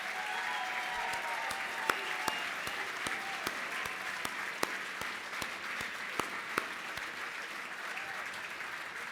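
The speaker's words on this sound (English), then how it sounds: "Now with the other board members, join Alicia and stand for applause." An audience applauds board members at a landmarks preservation celebration: sustained, even clapping from a large crowd with a few sharp, nearer claps standing out, and some voices faintly underneath.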